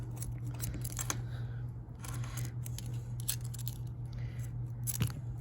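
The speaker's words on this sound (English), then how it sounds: "you're gonna need some scissors to cut it" Several short, crisp snips of scissors cut through paracord, scattered over a low steady hum in a quiet room.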